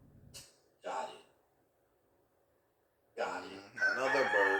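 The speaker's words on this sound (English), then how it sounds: "Another bird." A rooster's crow rings out in short bursts, the last one louder and drawn out, with gaps of near silence between.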